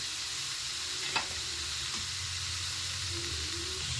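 Vegetables with chopped tomato and ginger fry and get stirred in a pan, a loud continuous sizzle with a couple of soft spatula scrapes.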